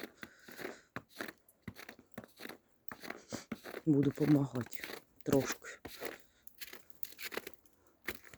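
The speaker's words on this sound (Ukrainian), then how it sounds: "Йду хрум-хрум, сніжок хрумкає." Footsteps crunch through fresh snow at an irregular walking pace, close by and fairly soft, while a person speaks over them.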